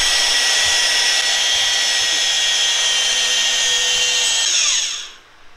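A magnetic drill whines loudly and steadily while boring into steel, then spins down and stops near the end, leaving faint rumbling.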